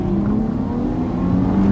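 A V6 Dodge Charger RT accelerates hard in a street race, its engine droning loud and steady as the revs build.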